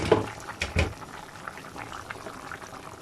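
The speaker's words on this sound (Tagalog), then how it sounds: "Pakuluan natin ito at takpan." Pork asado simmers in a covered pot with a soft, steady bubbling that stays low and close, and a few louder knocks come near the start.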